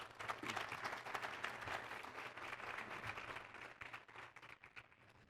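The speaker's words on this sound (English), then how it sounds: "Why don't you give her a round of applause" Audience applause at a 2019 State of the City address, many hands clapping in a sustained, fairly distant wash with sharp individual claps standing out, gradually thinning toward the end.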